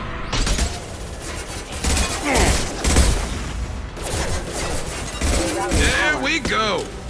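Gunfire rattles in the video game Mass Effect, with dense bursts of shots, booms and crashing impacts continuing loudly throughout, mixed with brief game voices.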